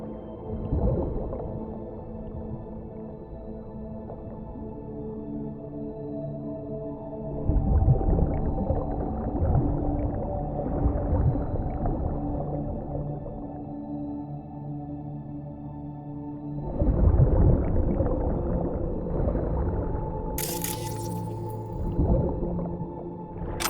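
Underwater ambience from the video game Cyberpunk 2077: a low muffled rumble with long droning tones and swelling whale-like calls that surge in waves, ending in a brief bright burst near the end.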